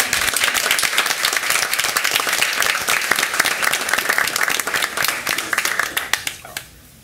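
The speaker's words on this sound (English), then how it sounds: "Let's give her a big round of applause" At a school district board meeting, a roomful of people applauds a student and her mother with brisk, sustained clapping, close and lively, thinning to a few last claps before fading out.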